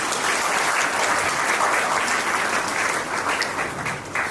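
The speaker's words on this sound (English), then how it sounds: "Another clap please for them." Steady, loud clapping from a seated audience at a school felicitation ceremony, given in honour of teachers and principals and sustained evenly for several seconds without any talking.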